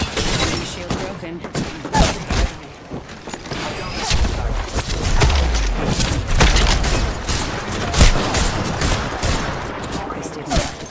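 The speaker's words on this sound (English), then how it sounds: "The enemies are shooting at me." In a shooter video game, enemies fire guns in dense, continuous bursts with booms and impacts throughout, loud and chaotic from start to finish.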